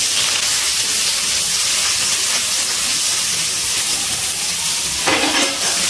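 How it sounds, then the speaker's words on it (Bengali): Chopped onion frying in hot oil with garlic for a spinach and masoor dal, giving a steady, close, dense sizzle throughout, with a brief sharper burst of hissing near the end. "পেঁয়াজটা ভেজে নেব।"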